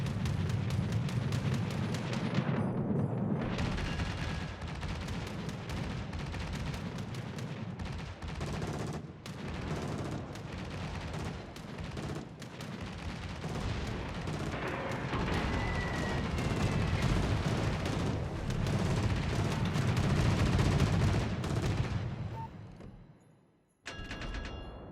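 Warship guns fire in World of Warships around a Tier VIII British cruiser, HMS Edinburgh, in ranked play: dense, heavy booming salvos and rumbling blasts roll on almost continuously, loud and close, then briefly cut out near the end.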